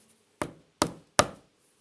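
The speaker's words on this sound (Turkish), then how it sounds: "Çalmış kapıyı." Three sharp knocks on a door at an even pace, close and clear with near silence between them.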